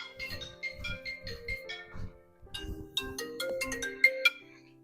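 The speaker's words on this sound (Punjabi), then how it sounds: "ਫੋਨ ਕਿਹਦਾ ਆ ਗਿਆ ਵਾ" A mobile phone ringtone plays a bright, repeating melodic tune, fairly soft and heard alone in a quiet room.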